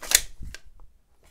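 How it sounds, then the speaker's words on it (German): A Glock 17 Gen4 FS Limited Edition pistol slide is drawn back a short way for a press-check, giving a sharp close metallic click followed by a softer second snap and quiet, with no talk. "um diesen quasi Press-Check zu machen, die Waffe zu öffnen"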